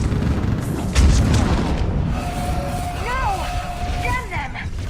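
In Mass Effect 3, a heavy artillery blast from fire support booms once nearby amid a war zone. Rumbling noise trails after it, and shouting voices break in over the fading echo.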